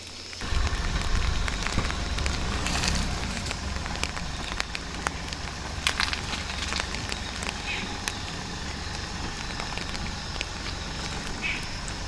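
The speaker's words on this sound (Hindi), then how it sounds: "और बारिश और भी तेज होगी इसमें।" Steady rain falls and patters on surfaces outdoors in a village setting, a continuous hiss with scattered sharper drops throughout, and someone talks over it at times.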